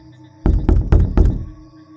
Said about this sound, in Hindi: मुझे स्टोर रूम के दरवाजे में एक दस्तक सुनाई दी।